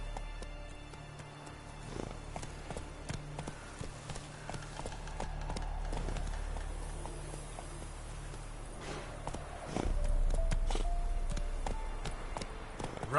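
Roach, a horse in The Witcher 3, clip-clops steadily along at a gallop with rhythmic hoofbeats throughout, growing louder and heavier toward the end.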